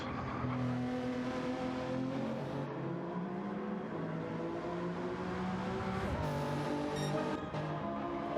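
A Lamborghini Murcielago race car in a Gr.3 racing video game at Bathurst drones steadily through a chicane, a layered engine tone holding pitch and then rising and shifting near the end, loud and continuous with no voices.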